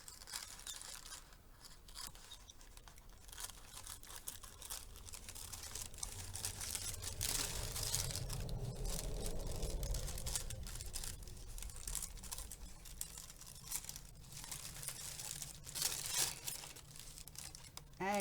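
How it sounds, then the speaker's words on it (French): Paper is cut roughly with scissors in a continuous stretch of snipping, crinkling and rustling, fairly quiet and close, with a few sharper crunches near the end. "Et je vais découper mon papier."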